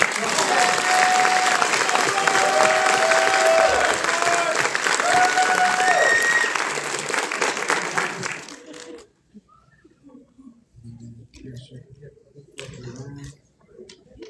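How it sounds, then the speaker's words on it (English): A graduation ceremony audience claps steadily for about eight seconds, with a few cheers mixed in, then the applause fades out and quiet sounds and faint talk follow. "So give him a round of applause."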